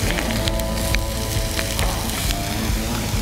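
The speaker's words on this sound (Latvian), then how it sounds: "Tev arī jau gaļa cepās." Beef burger patties fry on a grill with a dense, loud, continuous sizzle and scattered crackling pops, close up and steady throughout, with no voices.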